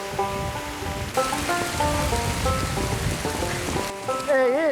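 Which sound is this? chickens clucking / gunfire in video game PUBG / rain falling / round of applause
rain falling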